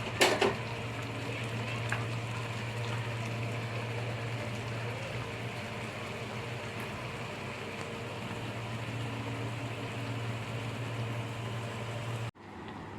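Egg tarka curry bubbling in a pan on the stove, a steady, close sizzling hiss with a low hum beneath, running unbroken for about twelve seconds before cutting off.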